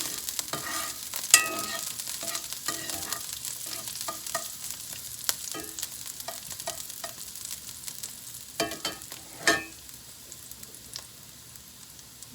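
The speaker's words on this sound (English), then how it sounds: "I'm just gonna give these a very quick saute" Garlic scapes are quickly sautéed in a pan and stirred with a metal spoon. A soft continuous sizzle runs underneath, broken by irregular clicks and sharp scrapes from the spoon, some louder than others, with no voices.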